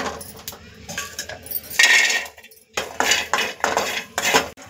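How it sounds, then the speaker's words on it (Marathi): A utensil stirs garlic and coconut as they roast in a pan, making loud, close scraping and clinking strokes in uneven bursts separated by short pauses. "आता ह्यामध्येच आपण लसूण आणि खोबरं भाजून घेऊया।"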